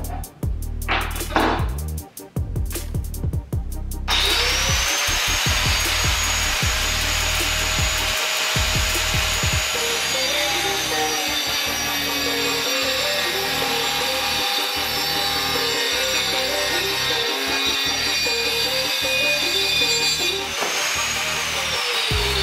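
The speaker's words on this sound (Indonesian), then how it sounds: "percobaan pertama saya akan menggunakan gergaji kayu dulu" A Doliz BA730 hand grinder fitted with a wood saw blade cuts through wood in a long, steady, loud whine after a few rough starts, running continuously with pitch dips.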